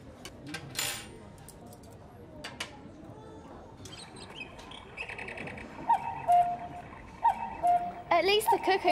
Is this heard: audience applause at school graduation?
no